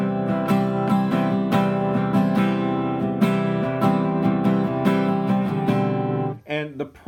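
Acoustic guitar strummed across all strings at once in steady, even strokes, sustained chords ringing loud and close with little variation in dynamics, a brief pause and quieter strums near the end.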